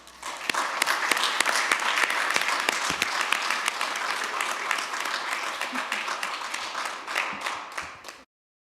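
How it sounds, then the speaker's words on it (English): Sustained audience applause fills a county board of commissioners regular session in Durham, steady dense clapping from a room of people that runs loud for about eight seconds before cutting off abruptly. "join me in giving a round of applause to one of the hardest working men in Durham, Eddie Culbertson"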